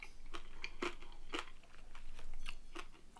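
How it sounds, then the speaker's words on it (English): Crispy roast pork belly skin cooked in an air fryer crunches under repeated bites, a run of sharp close crackles spread across a few seconds with no talk. "You hear that crunch?"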